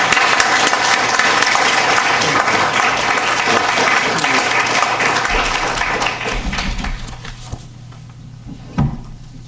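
Sustained audience applause at an evening poetry reading, welcoming poet Don Colburn in the Milwaukie poetry series; loud, dense clapping from a crowd fills most of the clip, then thins and fades out near the end.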